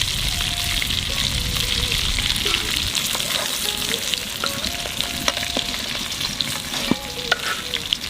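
Cumin seeds and bay leaves hit hot oil and set off a steady, close crackling sizzle that runs throughout, with occasional sharper pops and faint clinks of a utensil.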